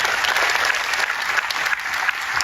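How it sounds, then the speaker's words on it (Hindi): An audience at an event in India claps in a loud, dense, continuous round of applause that stays steady to the end. "उनके लिए एक बार ताली बजा सकते हैं अपन"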